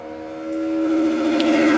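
A race car's engine sits on the rev limiter at the Goodwood Hillclimb, a loud, sustained buzzing drone that rises in pitch and swells as the car holds near full revs.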